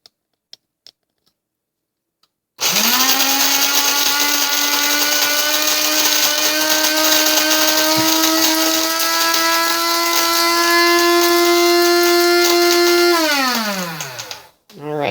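A Cuisinart burr coffee grinder grinds beans on a medium setting, whirring loudly and steadily for about ten seconds, its motor pitch holding even before spinning down and stopping.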